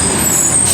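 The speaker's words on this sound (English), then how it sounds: "So they're blowing their air pressure off their brakes as they're coming here. That's that hiss you hear, the loud noise." Air brakes on a passing truck let off pressure in a steady, loud hiss that fills the whole moment alongside road traffic noise, with no voices.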